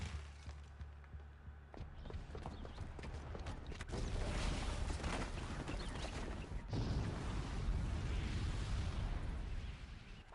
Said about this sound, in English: Still a big explosion.